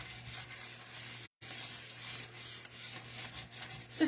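A nail file rubs back and forth along the edge of a wooden cutting board, a steady close rasping scrape with a brief break partway through.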